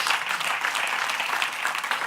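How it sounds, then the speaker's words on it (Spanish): Congregation applause during a church sermon, a short burst of steady, fairly loud clapping from many hands. "Den un aplauso fuerte a nuestro Dios."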